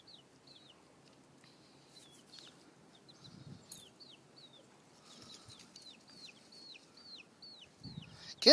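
Easter chicks give a steady run of high, thin peeps, about a dozen evenly spaced chirps, close and fairly quiet, with a few soft rustles and a louder bump at the end.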